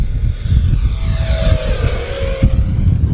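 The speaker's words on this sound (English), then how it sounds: "if you're new to RC jets like this is an EDF. It's electric ducted fan." Electric ducted fan RC F-16 Thunderbirds jet at full throttle making a pass, a loud steady rushing whine with a tone that sweeps down as it goes by, running continuously with no talk.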